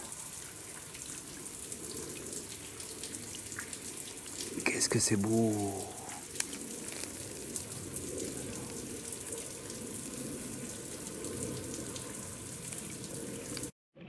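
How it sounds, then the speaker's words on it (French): Cascading water from a large waterfall near a cave, a steady broadband rush that holds throughout, with a brief spoken exclamation partway through. "Des cascades dans cette grande cascade."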